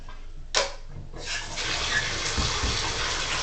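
Tap water runs steadily and close by while an air filter is washed under it, starting with a splash and then settling into a continuous loud gush.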